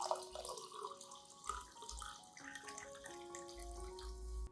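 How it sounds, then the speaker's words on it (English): Warm water pours into a cup with a faint, trickling splash, broken into short bursts with soft drips between them, heard quietly and close. "Add 300 milliliters of warm water."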